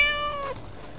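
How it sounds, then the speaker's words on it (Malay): A single cat meows once, a clear, near and fairly loud harmonic call lasting about half a second, with quiet room noise after it and no talking. "Bunyi binatang ni yang seterusnya adalah kucing"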